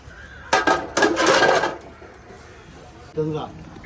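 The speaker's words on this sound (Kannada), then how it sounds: "ಸ್ವಾಮಿಗಳು ಪಾತ್ರೆಗೆ ತೊಳಿತಾ ಇದ್ದಾರೆ ಕೈ." Dishes and pots being washed at a temple kitchen clink and clatter in two short bursts, then a lighter knock. Voices are heard alongside.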